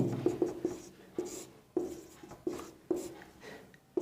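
Someone writes a divisibility rule definition by hand, close and fairly quiet, with repeated scratchy pen strokes in an uneven rhythm and no talking.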